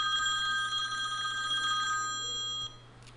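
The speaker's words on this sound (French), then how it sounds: "Pardon, téléphone." A telephone rings with a steady electronic bell tone, fairly clear and alone in a quiet room, cutting off near the end.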